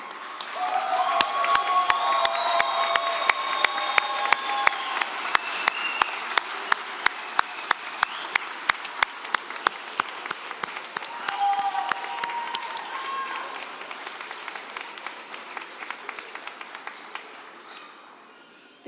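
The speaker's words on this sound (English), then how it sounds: "turn, and applaud all of your supporters who saw you through this journey" A large audience at a graduation commencement applauds for a long stretch, crisp claps with scattered cheers and whistles, the clapping thinning and fading out near the end.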